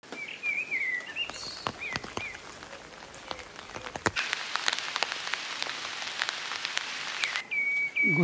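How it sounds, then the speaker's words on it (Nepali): Rain patters steadily on a tent at a family campsite near Vancouver, Canada, with close drips and taps, growing denser midway, while birds chirp intermittently in the background. "अहिले चाहिँ पानी परिरहेछ।"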